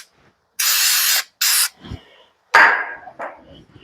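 Two sharp bursts of aerosol spray hiss loudly up close while spraying bolt holes on a Ford 7000 tractor drawbar, followed by a few brief clanks and a dog's bark.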